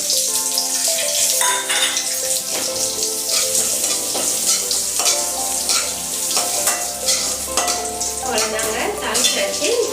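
Red chillies and neem flowers fry in hot oil for neem flower rasam, giving a loud, continuous crackling sizzle broken by scraping stirs in the pan.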